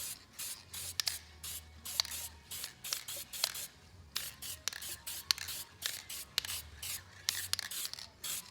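Repeated short bursts of an aerosol coating sprayed onto a Kohler engine head gasket, close and fairly loud, in an irregular rhythm of brief hisses with small pauses between them.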